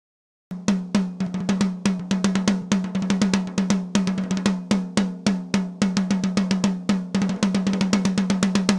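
Drum kit miked with a CAD TM211 microphone, a fast run of sharp drum hits with a resonant low-mid body, steady and punchy with a few brief gaps, loud and close with no voices.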